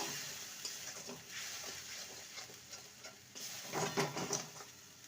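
Cauliflower stirred in a pan with turmeric and Kashmiri chili powder, a soft scraping, patting stir with a light sizzle underneath, growing a bit louder and busier near the end.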